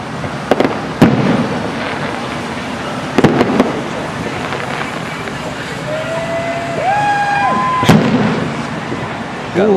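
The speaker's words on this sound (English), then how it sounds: "Fireworks. Oh my God! Look at those over there." Fireworks bursting over Mission Beach: several sharp, booming explosions at irregular intervals, some in quick doublets, with whistling rockets rising between them, over a steady outdoor background with people talking nearby.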